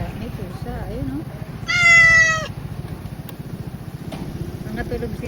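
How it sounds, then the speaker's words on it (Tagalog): A cat meows once, a short clear call rising out of steady street and engine rumble at an establishment in Imus, Cavite, with a person talking around it. "May pusa."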